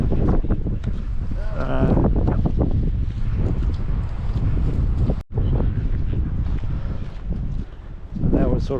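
Gusty outdoor wind buffets the microphone on a rocky coastal walk, a loud continuous rumbling roar with a brief dropout midway and faint voice fragments beneath.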